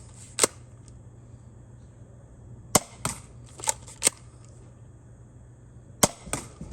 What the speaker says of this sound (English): a firing test with the Dart Zone Pro MKII short darts at Bessie.